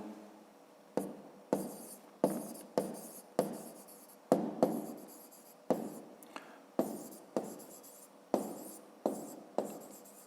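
Handwriting with a pen on paper while working a fifth-grade math exercise, a steady series of short scratchy strokes starting and stopping about once a second, close and quiet, with no talk.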